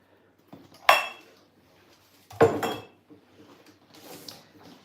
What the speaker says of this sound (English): So now we're gonna chop all the chocolates like this.